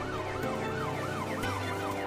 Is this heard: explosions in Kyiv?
no